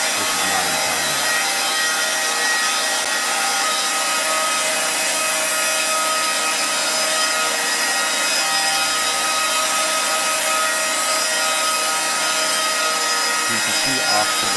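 A CNC router table cutting into wood, producing a loud, continuous rasping, sawing whine that holds steady for the whole stretch, with no one speaking.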